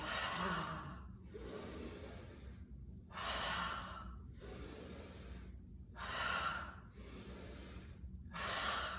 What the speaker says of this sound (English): as we exhale through the mouth